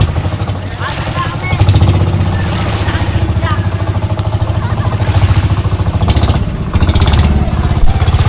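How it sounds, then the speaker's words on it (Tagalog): Close, loud engine chugging from a boat as it pulls away on an island-hopping trip, a rapid steady putter running throughout while people talk over it. "Aalis na po ang tropa sa bangka po ni Tatay Alan."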